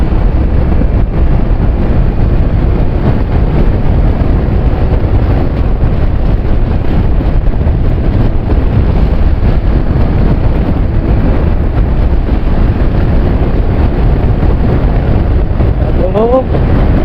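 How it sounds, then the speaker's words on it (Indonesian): Heavy wind roar buffeting a JPX MX 726-R motocross-style helmet while riding a motorcycle at about 75 km/h, a loud, constant low rushing turbulence with no pauses. "Dan deru anginnya mulai berasa"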